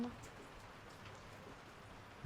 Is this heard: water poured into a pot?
no